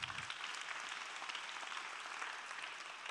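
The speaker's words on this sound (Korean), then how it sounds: "우리 박수 한번 좀 드리도록 하겠습니다." Steady crowd applause at a church youth event, a dense wash of many hands clapping continuously at an even level, with no voices standing out.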